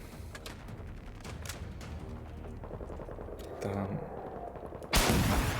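Sniper rifle shots from the video game Generation Zero, a loud broadband crack near the end standing out from steady game noise, with someone speaking briefly.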